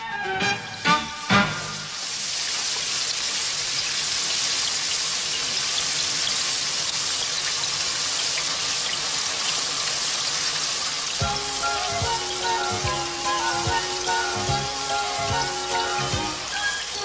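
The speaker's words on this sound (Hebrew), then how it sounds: "נדמה לי שירד גשם." Rain falls steadily in a classic 1985 animated series, a broad continuous hiss with a few sharp drops at the start, and a music-like tonal layer joins it partway through.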